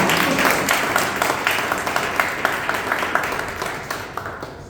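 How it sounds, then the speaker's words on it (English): Scattered clapping from a Toastmasters meeting audience, a loose crowd of hands patting steadily and fairly close, thinning slightly toward the end, with no clear voices over it. "Please clap."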